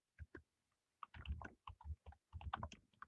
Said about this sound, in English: typing in show options